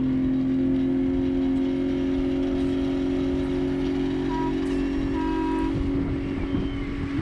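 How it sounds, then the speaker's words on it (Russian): A Yamaha 40 hp outboard motor driving a catamaran on a fishing trip, a steady loud droning engine hum with water and wind rush, running continuously up close. "Мотор 40-ка Ямаха."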